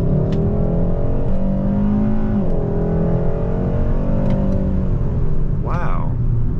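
A 2022 Hyundai Sonata N Line Night Edition accelerates hard, engine droning loud and close from inside the cabin with rising pitch, a brief dip like a gear change, and a short voice near the end.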